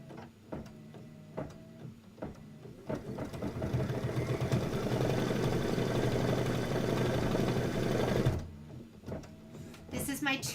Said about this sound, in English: And let's let it stitch.